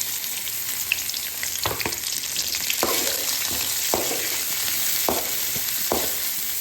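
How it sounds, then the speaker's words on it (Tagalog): Garlic and onion sauté in a pan with a steady bright sizzle, while several sharp clacks of a utensil against the pan break in at irregular intervals, close and fairly loud. "Lagay na natin yung bawang. Lagay na natin yung sibuyas."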